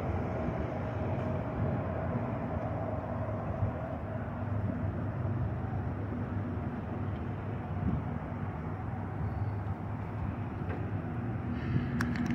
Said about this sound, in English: Is this train going that way or this way?